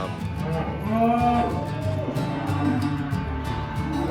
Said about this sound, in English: There's a lot of cows today.